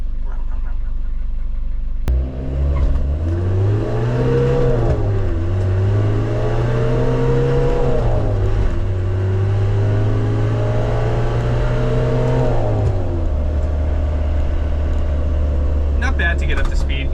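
Nissan Atlas 100 diesel truck accelerating from a crawl up to speed, the engine note climbing through several gear shifts and then settling into a steady drone, heard from inside the cab with someone talking over it.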